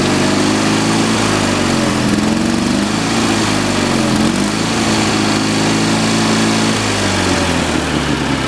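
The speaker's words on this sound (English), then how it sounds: "Just choking the engine on there." A Cub Cadet 1420 Hydro lawn tractor engine runs on choke, a loud, close, steady small-engine drone whose pitch wavers up and down slightly throughout, heard alone without talking.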